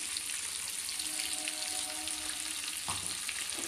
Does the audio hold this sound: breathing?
no